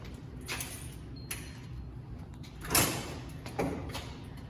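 A door to a building's courtyard slides or swings open, giving a soft scrape and a brief bump near the middle, heard close over a steady indoor background hum.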